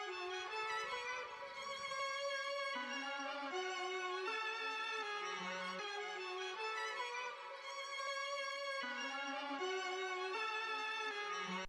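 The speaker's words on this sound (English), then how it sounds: "the last thing I added was a violin phrase" A violin phrase layered with a half-time, down-pitched copy of itself, as a beat sample built in FL Studio, plays as a smooth, continuous bowed melody with a deep doubled undertone, faint and alone.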